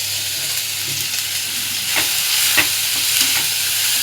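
Spring onions sautéing with onion and tomato in a hot pan for pithla, a continuous sizzle broken by a few sharp spoon scrapes against the metal, with no talking.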